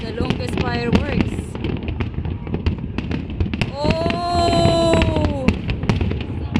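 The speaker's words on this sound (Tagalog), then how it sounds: "The longest fireworks." Fireworks display in Abu Dhabi: rapid, dense cracks and pops burst throughout, with a whistling rocket trail rising near the end, crowd voices and an excited shout mixed in.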